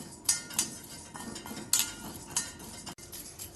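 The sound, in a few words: stirring and dry-roasting rice in a pan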